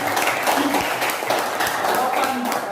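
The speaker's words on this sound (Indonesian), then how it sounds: "kita boleh berikan aplaus untuk teman-teman" Classroom applause for classmates during a lesson, a burst of many hands clapping in an uneven patter that stays continuous, close and moderately loud, with voices mingling underneath.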